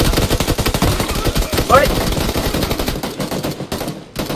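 Rapid automatic gunfire in the shooter game PUBG Lite rattles loudly and close in a dense, steady stream of shots that thins out near the end, with a brief shouted exclamation over it.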